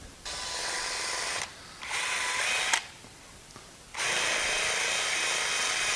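Power drill with a step bit (unibit) chamfering dowel holes in a construction-lumber table apron: three close, high-pitched whirring bursts separated by short pauses, the last one sustained.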